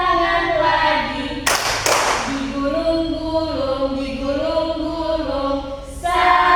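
Students in an Indonesian classroom clap their hands twice in quick succession during an action song, the sharp claps landing amid sustained singing and talking voices.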